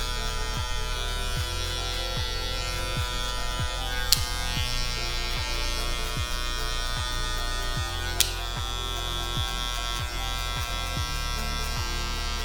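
Electric hair clippers fitted with a number 1 guard cut hair for a skin fade, giving a steady, close buzzing hum throughout with a faint regular pulsing and two brief clicks, no talk.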